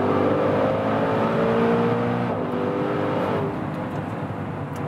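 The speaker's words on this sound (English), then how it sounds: "when I'm doing a kick down here now" A Maserati Levante Trofeo V8 SUV kicking down and accelerating in sports mode, its engine a steady close droning hum from the cabin that eases slightly near the end.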